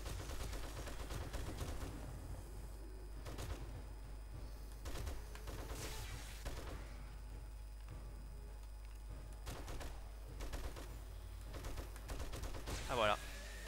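An M60 machine gun firing at zombies in 7 Days to Die, with bursts of gunfire standing out over a constant low rumble of game noise.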